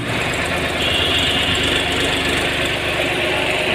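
A Sonalika 35 DI tractor engine idles steadily and loud just after starting, a constant low chugging rumble with a faint knocking rhythm, no voices.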